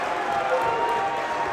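A crowd at a varsity high school wrestling match cheers and applauds steadily after a pin, a dense, sustained roar of voices and clapping filling the gym without a break.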